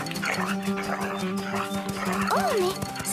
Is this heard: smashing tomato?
no